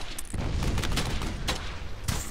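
Kar98 rifle fire in the World War II shooter Brothers in Arms: Hell's Highway, heavy booming shots amid dense ongoing battle noise, loud and continuous.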